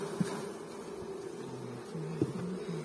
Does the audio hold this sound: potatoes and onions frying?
no